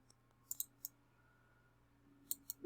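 A computer mouse clicks sharply in two small clusters, a few quick close clicks early and a couple more near the end, over a quiet background.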